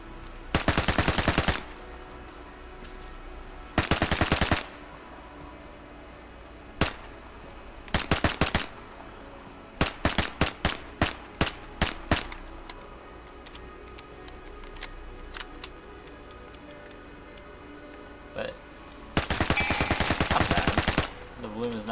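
Gunfire from a secondary weapon in the game Vigor comes in loud, sustained bursts and scattered single shots, the bursts separated by quieter stretches of ambient game sound, with no talking over them.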